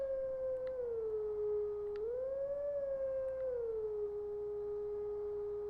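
Wolf Link from Twilight Princess howls a song, a single sustained electronic-sounding tone that holds, dips and rises through a few pitch steps, loud and alone.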